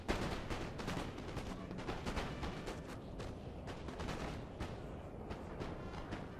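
Musket volleys and artillery in Napoleon: Total War, with dense overlapping battlefield gunfire cracking and booming continuously at moderate volume for several seconds, and no talk over it.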